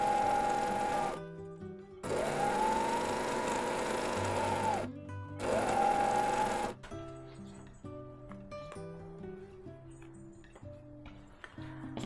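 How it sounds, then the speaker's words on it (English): A sewing machine stitches a fabric Christmas gift bag in several bursts of steady, whirring running with brief pauses between them, then slows to lighter, ticking stitches near the end. "just be a bit careful when you're sewing it"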